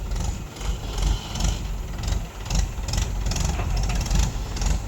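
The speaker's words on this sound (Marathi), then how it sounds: "हे बघू शकता आता रिवर्स येईल महिंद्रा ट्रॅक्टर" A Mahindra 575 tractor engine runs in reverse at a murram earthworks site, a steady loud diesel rumble with slight pulsing and no talk.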